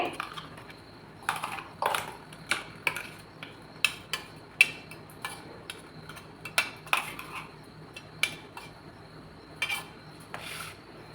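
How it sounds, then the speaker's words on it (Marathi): A spoon scrapes and taps repeatedly against a metal mixer jar and container while ground wet coconut paste is scooped out for dum aloo, a series of close, sharp clinks at an uneven pace with no talking. "आता ही ह्या डब्यात काढते"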